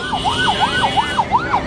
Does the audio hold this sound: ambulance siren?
yes